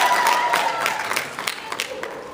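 A convention-panel audience claps steadily throughout, a dense spread of many hands at moderate loudness with slight swells and no voices on top.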